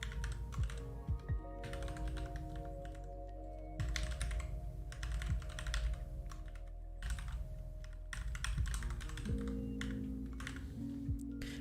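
Fast, close clicking of typing on a computer keyboard runs steadily in bursts, with short pauses between them and no voice over it.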